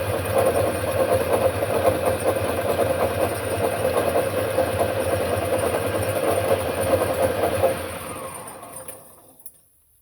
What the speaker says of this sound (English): Give it a quick spin in the lathe.